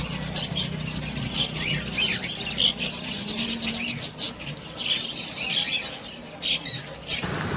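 Cockatiels, budgerigars and lovebirds crowd a busy bird market, their shrill chirps and squawks overlapping continuously amid general background bustle.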